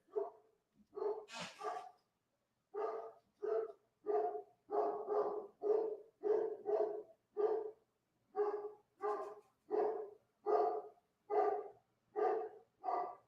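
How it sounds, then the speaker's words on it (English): A dog barks repeatedly in a steady rhythm, single and double barks close by and fairly loud, with brief pauses between bursts. "I got to keep my dog from barking"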